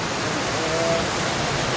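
Steady broadband rush of water from the Koshmal waterfall during the rainy season, a continuous close roar with no breaks and no talk.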